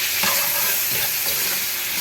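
Beef and mushrooms cook in a hot pan with a dense, continuous sizzle and hiss, broken by light scraping knocks as they are stirred, without any talk.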